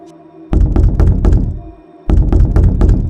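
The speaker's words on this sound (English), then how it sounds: "Suddenly, the doorknob shook violently." A doorknob shakes violently as a man shoves the door from outside: two bursts of rapid, heavy thuds and rattles, close and loud, separated by a brief pause, with no voices.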